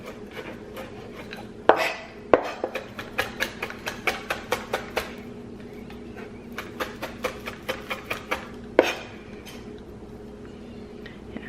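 A knife chops steadily on a cutting board while preparing a beef rice noodle bowl, a quick run of sharp, evenly spaced taps with a short pause midway, close and clear in a quiet kitchen.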